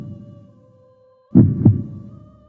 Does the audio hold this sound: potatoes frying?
no